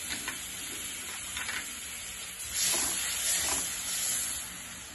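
Oil and butter hiss and sizzle in a pan while Mumbai-style pav bhaji is being cooked. A steady close frying hiss runs throughout and grows louder and fuller about halfway through, with no talking.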